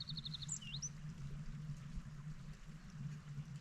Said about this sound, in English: You can hear that little bit of a brook, stream just trickling away.